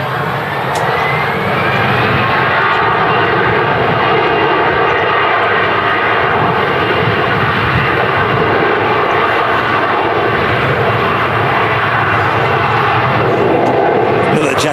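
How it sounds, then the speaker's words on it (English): A Jet2 Holidays Airbus A321 departs runway 2 at Manchester Airport with a loud, continuous jet engine roar that holds strong for the whole stretch. "Jet2 Holidays A321 departing runway 2."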